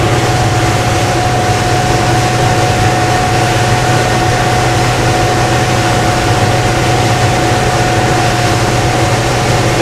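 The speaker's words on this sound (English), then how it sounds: "this boat right here that's running right next to us" Motorboat engine running alongside on the Intracoastal Waterway, a steady loud droning hum with constant rushing water and wind noise throughout.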